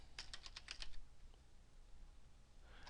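Quick burst of about six keystrokes on a computer keyboard entering a label into an Excel spreadsheet, crisp and close, then quiet, with a faint clatter of more keys at the end.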